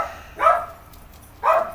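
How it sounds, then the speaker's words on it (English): Dogs bark twice, a second apart, sharp mid-pitched woofs at a moderate distance with no talk over them. "there's the dogs freaking out on something"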